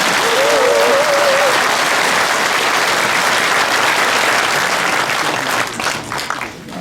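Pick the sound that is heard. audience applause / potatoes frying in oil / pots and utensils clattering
audience applause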